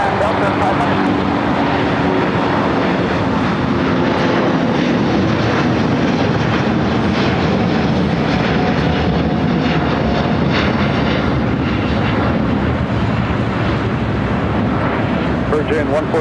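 A heavy Boeing 787 Dreamliner jet departing from runway 25 Left at LAX, a loud continuous engine roar and rumble sustained throughout with a voice talking over it.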